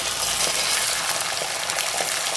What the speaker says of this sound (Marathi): या तेलामध्येच मी हा जो 1 किलो लसूण घेतलेला आहे तो ॲड करते आहे